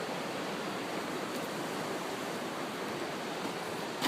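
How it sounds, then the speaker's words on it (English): Water pours steadily out through a gate at Upper Kezar, a dense continuous rushing wash like a small waterfall, close and constant with no voices. "Still a little bit of water running out of town."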